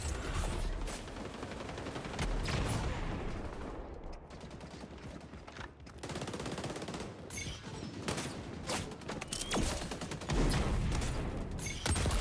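Rapid MP5 submachine-gun bursts rattle through a busy XDefiant match, loud repeated volleys in quick succession with a brief lull partway through and other gunfire and mechanical clatter mixed in.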